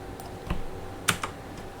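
A few sparse keystrokes on a computer keyboard while a chart title is typed, three or four distinct clicks spread over a quiet background.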